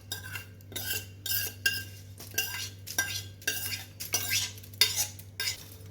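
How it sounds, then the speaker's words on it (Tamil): A spoon scrapes and stirs chickpea sundal in a metal pan, repeated bursts of scraping in an uneven rhythm over a low steady hum. "நல்லா கிளறி கொடுத்துக்கலாங்க"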